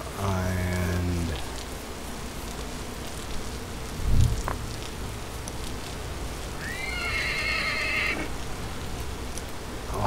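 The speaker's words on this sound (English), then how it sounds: "There's another horse over there." A horse in the Vintage Story survival game whinnies twice, a long descending neigh at the start and another midway through, over a steady wash of falling rain with a faint thump between.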